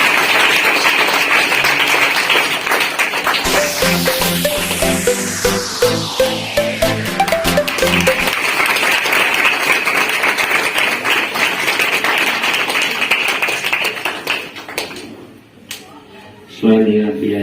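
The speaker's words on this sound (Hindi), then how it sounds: "हम सब ताली बजा के स्वागत करेंगे।" Audience applause at a charity trust's religious gathering in Delhi, with dense, steady clapping from a crowd throughout, joined by music and loud voices before the clapping trails off near the end.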